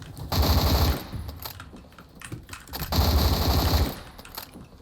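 Coil Gun firing in the Roblox video game, with two loud sustained bursts of rapid automatic fire about two seconds apart and quieter game noise between them.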